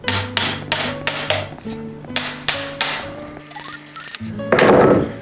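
A star nut setting tool is hammered into a bicycle fork steerer with a series of sharp, ringing metal strikes in uneven bursts, close and loud, ending in a louder clattering impact.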